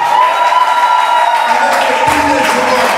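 A church congregation applauds and cheers at a French-language worship service, a dense, steady wash of clapping with whoops rising over it, close and loud throughout, with a few voices mixed into the crowd.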